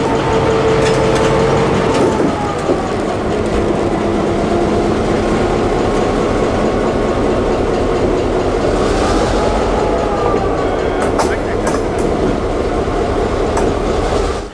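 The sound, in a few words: EMD GP9RM locomotive 7063 switching rail cars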